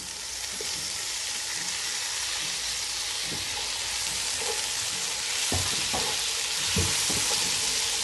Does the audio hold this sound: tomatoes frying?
yes